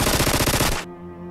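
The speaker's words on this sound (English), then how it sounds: "I think they're shooting through the window." Rapid automatic gunfire in a PUBG match, shots fired through a window, a loud close burst of about a dozen evenly spaced rounds that stops abruptly and leaves a faint tonal hum.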